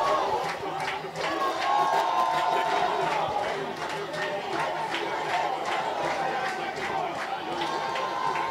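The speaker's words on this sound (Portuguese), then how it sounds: "A torcida vai tentando empurrar a equipe do Operário" A football crowd cheers on Operário at the state championship final in a stadium, a dense, steady roar of voices with scattered shouts and chanting, no single voice standing out.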